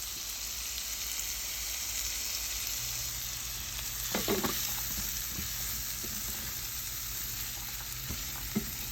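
Yellow onions with Italian seasoning cook in a pot with the lid on for a white bean and vegetable soup, giving a steady, even sizzle like light rain, with a few faint clinks partway through.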